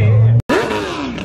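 A BMW M3 readied for a street race against a Supra makes a loud, close engine rev that rises and then falls away, broken by a brief dropout near the start.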